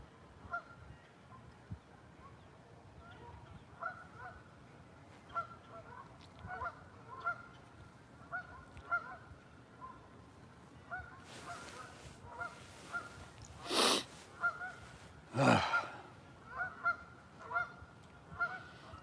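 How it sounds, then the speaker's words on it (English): Geese honking outdoors at night beside water where channel catfish are fished, a scattered run of repeated honks at moderate distance that grows busier, with several louder nearby calls and a few sharp thumps mixed in. "Now the geese are yelling now."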